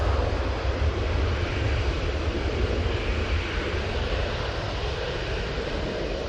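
A Ryanair airliner's engines roar steadily at Manchester Airport, a loud, continuous broadband jet rumble with wind noise and no voices.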